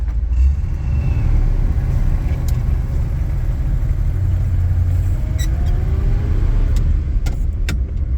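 A 1959 Ford Thunderbird with a manual transmission cruises along a road, heard from inside as a loud, steady low rumble of engine and road noise with a few faint clicks and rattles.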